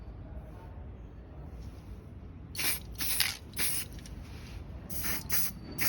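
Bursts of spray paint hiss as a coat of exhaust paint goes on, several short separate blasts at close range with no talk in between, following a quiet stretch.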